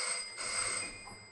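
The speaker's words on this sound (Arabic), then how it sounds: "رد على التليفون" A telephone rings on stage during an Egyptian comedy play, a bright electronic ringing tone sustained through the moment, fairly close and clear with no talk over it.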